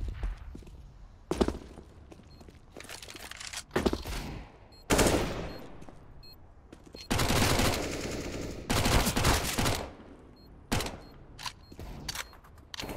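Gunfire from a Mac 10 submachine gun in a competitive Counter-Strike match, heard as repeated bursts and single taps spread across the stretch, some loud and sustained, others brief and sharp, with no talk.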